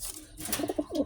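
Breeding pigeons coo at close range in a short burst of soft, throaty, rolling calls.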